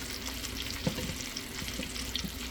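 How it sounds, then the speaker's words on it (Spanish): Onion sizzling in hot olive oil in a pan, a steady close frying crackle with occasional pops and stirring sounds, no talking. "en aceite caliente con aceite de oliva, como les dije ahorita, y la vamos a sofreír"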